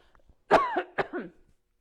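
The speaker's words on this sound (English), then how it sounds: "I got a cough." A single close, rough cough in two harsh bursts, with near silence before and after.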